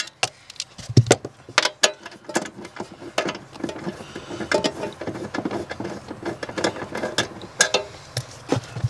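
A ratchet wrench with a 10 mm socket loosening bracket bolts on a Honda Civic, giving sharp, close metallic clicks in irregular bursts with brief pauses between turns, with no talking.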